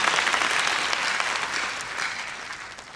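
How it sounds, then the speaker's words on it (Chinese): Warm applause from a large audience at a business convention in a Taipei hall, a dense roar of clapping that slowly fades toward the end. "给我们所有的伙伴一个热烈掌声"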